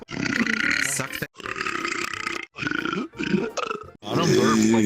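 A series of loud, close burps and belches from a person in a VR game setting, four or five bursts in quick succession with short pauses between them.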